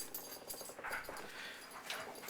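A dog being handed a treat indoors, giving short close whimpering and snuffling sounds over steady background hum, with no talk.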